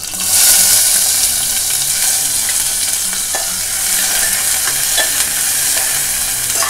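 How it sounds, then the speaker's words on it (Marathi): Curry leaves and onion hitting hot oil in a pan for a Konkan jackfruit seed vegetable dish, a loud close sizzle that stays dense and even, with occasional light clicks of stirring. "आता हे तेल तापलं आहे, आता आपण कढीपत्ता घालूया आणि नंतर कांदा."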